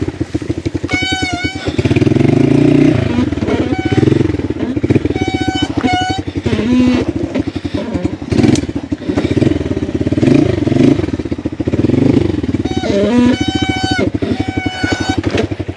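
Motorcycle engines rev and putter loudly up close, rising and falling in pitch as the bikes clatter and bump over a rough, rocky trail.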